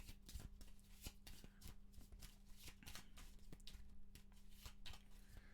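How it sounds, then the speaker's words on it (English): Arkham Horror board game cards, from the Dunwich Legacy campaign, shuffled by hand at a tabletop: a steady run of soft papery riffles and flicks, close and quiet, over a low constant hum, with no talking. "And then this gets all shuffled together."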